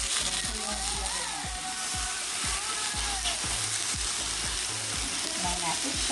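Milkfish belly sizzles and crackles as it fries in its own oil in a pan, a steady hiss broken by regular dull knocks, with a voice talking over it.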